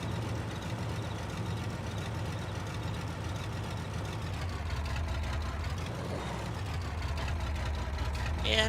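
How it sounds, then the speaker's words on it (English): A tractor engine idles in Farming Simulator 22 with a steady low rumble, continuous and even throughout, with someone talking over it. "And we can park the tractor."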